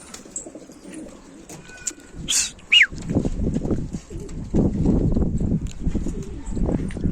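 Low, soft pigeon coos rising and falling in repeated bursts nearby, with a few brief chirps and rustling before them.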